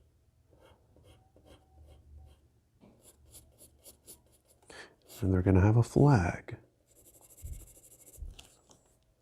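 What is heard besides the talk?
pencil sketching on paper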